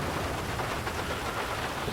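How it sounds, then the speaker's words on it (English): Steady rain pours in the GTA V video game, a dense, even hiss with low rumbling underneath, loud and continuous throughout with no talking. "the rain is not gonna help at all."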